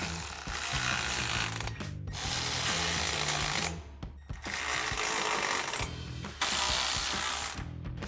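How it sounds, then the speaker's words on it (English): Ratchet with a 13mm socket tightening bolts on a Westin HDX modular grille guard for a 2019-2024 RAM 1500, rapid loud clicking bursts in three runs separated by brief pauses. "now we can use the provided Allen key and a 13mm socket to tighten this down."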